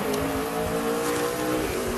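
A NASCAR Busch Series race car at Indianapolis Raceway Park qualifying rolls back toward pit lane, its engine droning steadily and fairly loud throughout with a low rumbling tone and no voices.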